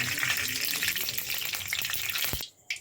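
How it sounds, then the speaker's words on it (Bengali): Steady crackling sizzle of hot oil in a wok-style pan for frying palm fritters, close and continuous, cutting off abruptly near the end with a brief clink. "কড়াইতে তেল দিয়ে দিলাম"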